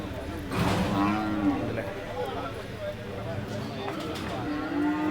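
Large bulls low with deep, drawn-out moos at a Kerala cattle market, set against a busy background of crowd voices and livestock noise.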